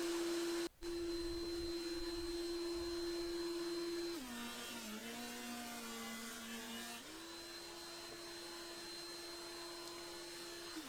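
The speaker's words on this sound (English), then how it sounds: "Have a listen to the increase in sound on the second pass, and you'll get an idea of how quiet this machine is." A Carbatec 330mm helical benchtop thicknesser runs with a steady motor whine while planing Oregon wood, its pitch dipping briefly as stock feeds through, then settling back to a constant hum.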